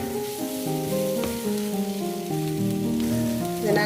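Onion and chicken stuffing sizzles steadily in a hot frying pan, a continuous close crackle and hiss with a faint stir near the end, no talking.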